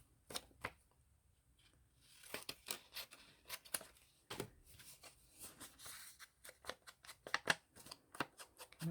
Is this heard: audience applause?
no